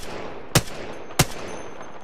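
Gunfire between rival squads in a video game: two sharp, distant-sounding shots spaced about half a second apart over a low ambient hum, with no talk.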